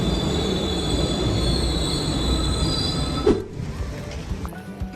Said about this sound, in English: here's the train on the other side.